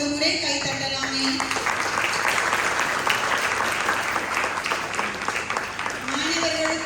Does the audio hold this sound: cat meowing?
no